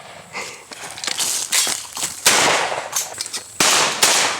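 Shotguns fire repeatedly at a dove hunt, with several sharp reports of varying loudness, some near and some farther off, each trailing a brief echo amid outdoor background noise.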